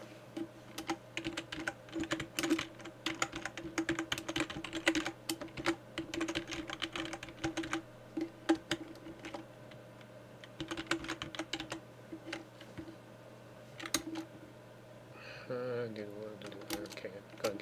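Computer keyboard typing in quick, uneven bursts of keystrokes, fairly close, over a steady low hum from a game or background music, with a brief tonal change near the end.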